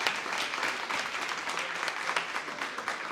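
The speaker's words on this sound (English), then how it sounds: "give yourselves a round of applause" A steady, dense round of applause from an audience honouring competition participants at a digital justice demo session, continuous clapping at an even level throughout without breaks.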